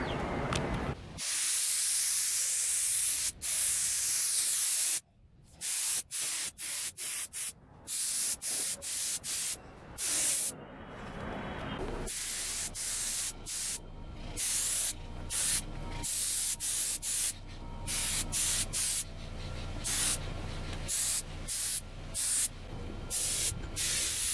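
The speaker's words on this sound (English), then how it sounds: "So let's get this mixed up and start spraying some clear." A spray gun sprays clear coat paint on a Toyota MR2, hissing in long steady bursts broken by brief pauses, with a constant loud airy rush throughout and no talking.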